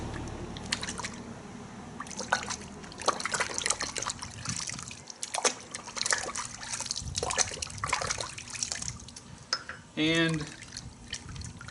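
Water trickles and splashes into a bucket holding thick car wash soap, an uneven close pouring with drips and gurgles, and a voice briefly near the end.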